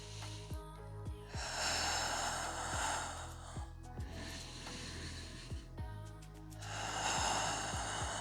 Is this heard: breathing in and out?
yes